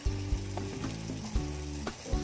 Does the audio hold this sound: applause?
no